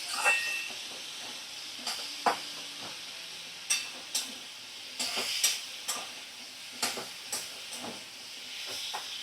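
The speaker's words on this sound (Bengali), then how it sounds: "এবারে মিডিয়ামে করে আমি ভালো করে 2 থেকে 3 মিনিট কষিয়ে রান্নাটা করে নেব।" Rui fish curry with drumsticks cooks in a pan over a medium flame, giving a soft steady sizzle broken by scattered stirring scrapes and clicks, with no one speaking.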